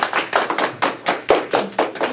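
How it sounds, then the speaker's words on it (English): Small audience clapping for guests at the Tucson Technics gathering, a quick run of about nine close, sharp claps in a steady rhythm. "Can we just give them a big clap?"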